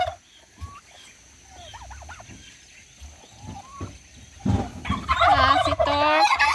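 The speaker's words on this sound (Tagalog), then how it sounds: "Maingay kayo masyado. Kayo mga pabo." Quiet rustling and a few faint calls, then a loud burst of turkey gobbling near the end, rapid and warbling, close by.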